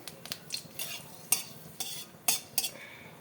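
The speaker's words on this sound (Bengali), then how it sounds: "কড়া গরম হয়ে গেছে দিয়ে দেবো সর্ষে তেল ফোড়নে দেবো শুকনো লঙ্কা" Dried red chili tempering in hot mustard oil in a kadai: crackling sizzle broken by several sharp metallic scrapes and clinks of a spatula against the pan, with no voices.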